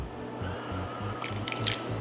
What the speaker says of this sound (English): Add you about 2 to 3 cups of some reduced sodium chicken broth.